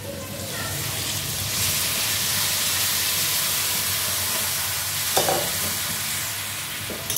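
Water poured into a hot pan, a broad steamy sizzle and hiss that swells and holds steady, with a brief clatter near the end.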